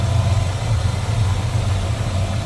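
A 1967 Chevrolet C10 pickup with a 4-barrel carburetor idles smoothly and steadily, a close, even low rumble with no talk over it.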